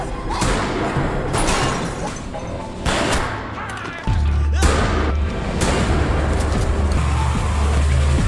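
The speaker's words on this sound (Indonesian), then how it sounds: "Di sini Motsuo terus menembak ke arah Daigo dengan membabi buta" Gunfire from a scene in the Japanese TV series Gannibal, with loud repeated shots fired wildly over tense music and a deep low rumble that grows louder partway through.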